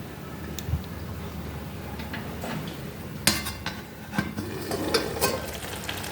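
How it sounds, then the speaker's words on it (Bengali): Water boiling hard under a lid in a pot on a high gas flame, being brought to a rolling boil for a puffed-rice ghonto: steady bubbling hiss and rumble with occasional lid clinks and knocks, close and moderately loud, no talking. "দেখো পুরো ফুটছে।"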